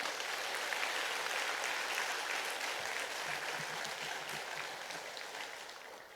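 Congregation applauding in thanks at a church women's association seminar, a broad, fairly faint wash of many hands clapping that holds steady and slowly fades.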